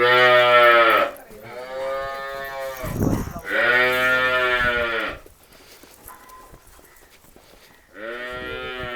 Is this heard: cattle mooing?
yes